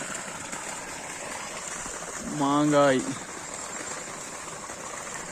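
Irrigation water flows steadily around a mango tree on a farm, a constant, even wash of sound throughout, with someone briefly speaking over it midway.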